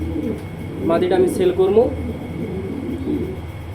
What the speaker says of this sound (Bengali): ব্লু কালারের এক্সিবিশন মাদি কবুতর রানিং।